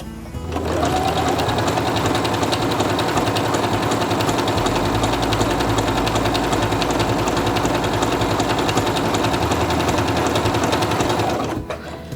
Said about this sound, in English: And I'm going to sew again to see what it looks like.